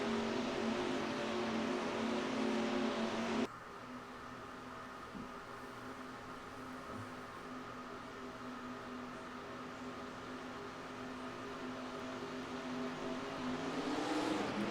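IndyCar race cars in NASCAR Racing 2003 accelerating on an oval at a restart, a steady loud engine drone that drops at one point then builds again toward the end.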